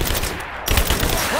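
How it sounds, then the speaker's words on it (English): Rapid automatic gunfire rattles in Rise of the Tomb Raider, loud close bursts of shots that briefly drop out and then resume in a dense, continuous volley. "Give me covering fire! Covering fire!"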